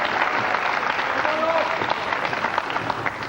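Applause from the crowd at a 2000 World 9-Ball Championship pool match, a sustained burst of many hands clapping, loud at first and thinning slightly toward the end, with murmuring voices beneath.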